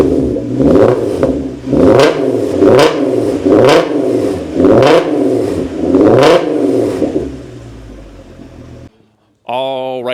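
A manual 3.6L AWD Mk6 VW GTI with a new exhaust revs repeatedly, about six rising and falling vroom bursts, loud and close, then a brief pause before a short voice.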